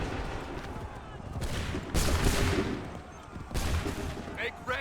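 Gunfire volleys in the Assassin's Creed 3 Remastered video game: loud, broad crackling bursts with a heavy rolling discharge near two seconds and another close to four, over a constant battlefield rumble.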